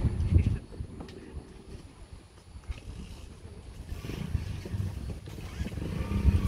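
Several motorcycles ride past in a steady low rumble of engines that swells toward the end, mixed with broadband outdoor noise and no clear talk.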